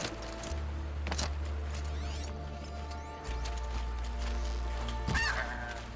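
Goose honking in the video game Horizon Zero Dawn, several loud nasal honks and squawks over a steady low in-game ambient drone, with a sharp crash-like hit toward the end.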